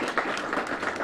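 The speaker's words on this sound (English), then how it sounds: "we want to give Maya a big round of applause" Brief burst of audience applause at a community gathering, a dense, moderately loud wash of many hands clapping lasting about a second.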